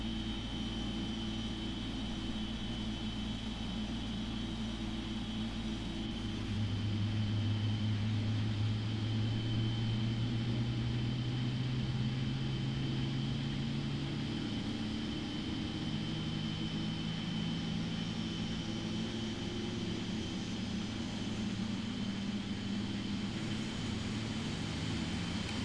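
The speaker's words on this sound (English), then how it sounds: "we'll listen and watch as number one engine comes online now" Jet engine number one of an airliner spools up in the Prepar3D flight simulator, a steady roar with a rising whine that climbs and settles into a loud continuous drone with no talking.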